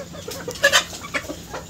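Sonali chickens kept for egg laying squawk and cackle loudly in a small backyard flock, with a sharp burst of calls followed by several shorter squawks close by.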